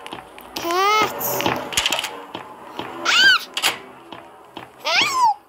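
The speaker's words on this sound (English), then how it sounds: "Cat! Cat! Cats!" A cat in a Roblox video game meows three times in short, rising and falling bursts, loud and close, with a voice and game thuds around them.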